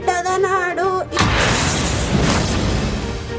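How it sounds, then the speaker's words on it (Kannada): Firecrackers burst in a loud, dense crackling barrage at a public celebration, following a few moments of singing, the explosions continuous and close. "ಪಟಾಕಿ ಸಿಡಿಸಿ ಸಂತಸ."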